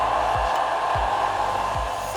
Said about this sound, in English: But this is my hair dryer